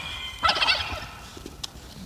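Domestic ducks that had stayed in a shed for five days give a short burst of loud nasal calls near the start, followed by a few quieter scattered calls close by.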